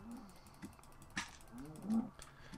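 Cows moo in the video game Minecraft, with a couple of short low lowing calls over soft clicking and game background noise, fairly close.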